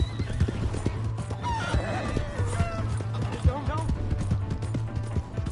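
A horse in Red Dead Redemption 2 whinnies loudly as its hooves clip-clop in a quick gallop beneath a low steady rumble, while a voice speaks briefly over the action.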